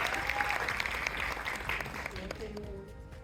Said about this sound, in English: let's clap for him anyways